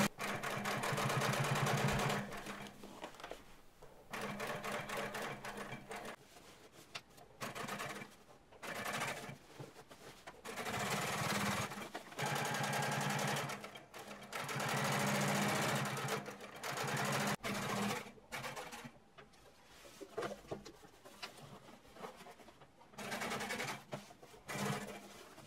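A sewing machine double top stitches a jeans seam in repeated bursts of fast, steady motor whirring separated by short pauses, close by and with no voices.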